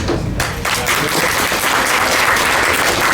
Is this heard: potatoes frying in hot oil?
no